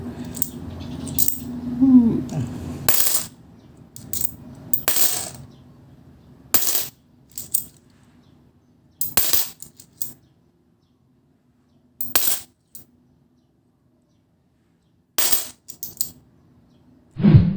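Coins handled and dropped one by one while being sorted, sharp metallic clinks in short separate bursts with silent gaps between, close and clear, no talking.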